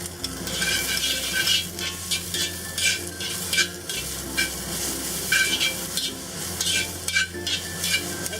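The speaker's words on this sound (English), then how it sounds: "Saute this for about 30 seconds. I'm going to add the garlic." Purslane sizzles loudly in a hot wok as a stir fry while garlic goes in. A steady frying hiss is broken by repeated scraping and tossing strokes, with a low hum running underneath.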